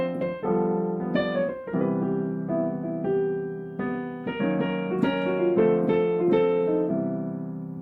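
A short chord progression moves from a sharp 2 chord to the regular 2 chord and then resolves to the 1 chord, played as rhythmic strummed or comped chords with melodic fills. The instrument is likely a guitar or keyboard, heard alone at moderate volume.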